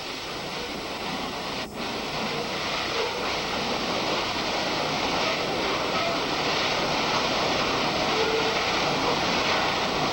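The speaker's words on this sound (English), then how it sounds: "This is the application of the hose stream, and as I mentioned, this isn't your typical garden hose." A high-pressure fire hose stream at 30 psi blasts a gypsum firestop test assembly with a sleeve penetration, making a loud, steady, broadband roaring hiss that runs unbroken through the whole stretch.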